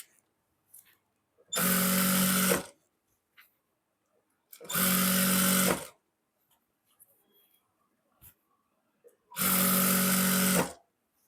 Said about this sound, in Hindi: तो इसके ऊपर हम सिलाई लगा लेते हैं 1 सिलाई